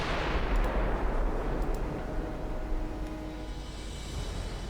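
Battleship main guns fire in Ultimate Admiral Dreadnoughts, a heavy, dense rumble of cannon fire that rolls on steadily, with faint sharper reports on top and no voices.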